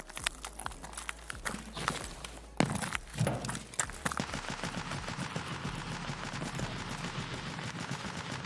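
Gunfire in a Call of Duty style battle royale match on Ground Zero, with dense rapid cracking bursts and machine gun rattle going on continuously, a louder blast partway through and galloping hoofbeat-like patter, with no talking.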